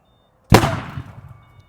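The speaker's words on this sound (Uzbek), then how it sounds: "Bu grom pushkamiz." A homemade thunder cannon bird scarer used to protect grape and fruit orchards fires one sharp, very loud blast that rumbles and decays over about a second, with no other sound.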